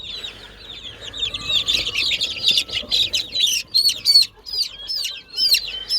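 Young pigeon chicks in a loft chirp in quick, high, repeated peeps, close and fairly clear, with short pauses between bursts and a faint low background hum.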